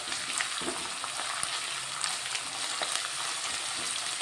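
Onions and ginger-garlic paste frying in a pan for spicy chicken fry, a steady close hiss of sizzling oil with faint scattered crackles and soft stirring scrapes throughout, no talking.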